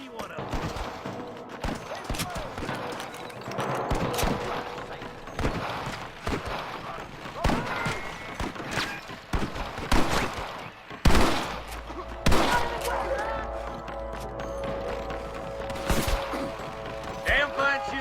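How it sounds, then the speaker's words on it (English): Gunfire shootout in the video game Red Dead Redemption, irregular shots and volleys cracking over background commotion, with people talking at times. "Damn fine shooting, boys."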